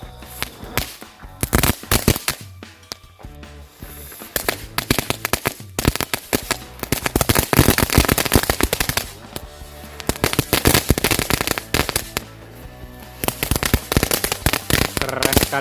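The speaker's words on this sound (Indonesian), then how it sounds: "lanjut kita nyalakan satu pak mercon telur dino pretek" A pack of dino egg firecrackers goes off at night during Ramadan, loud rapid crackling and popping bursts in dense volleys separated by brief pauses, continuing for about fifteen seconds.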